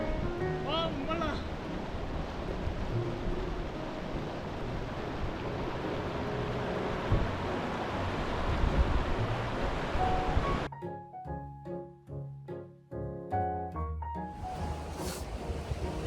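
Water splashing and running during an outdoor wash in a mountain stream on a high-altitude trek in Peru, a steady rushing wash with wind, then choppier, broken splashes toward the end.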